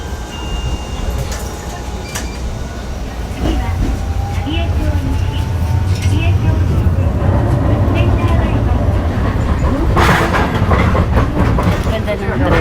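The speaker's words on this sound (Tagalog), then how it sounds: "Ganda ng train." A train rolls past nearby, its rumble and clattering wheels swelling louder partway through and staying strong, while people talk over it.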